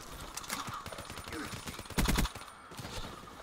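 Rapid-fire gunfire in the Black Ops 3 video game during a Domination match on the Stronghold map, a dense burst of quick shots with a louder cluster near the end, heard amid game noise.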